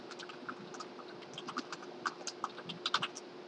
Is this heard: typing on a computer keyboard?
yes